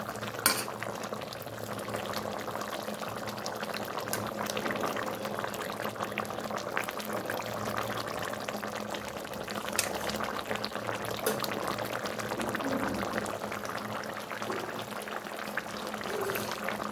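A pot of Bengali fish curry boiling steadily while cooking, with a continuous bubbling and sizzling texture at even loudness from start to finish.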